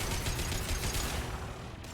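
Video game gunfire aimed at an enemy, a fast rattling stream of shots, loud and close, thinning out near the end.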